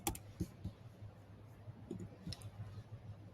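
Faint, scattered clicks of typing on a computer keyboard, light keystrokes tapping irregularly over a low steady hum.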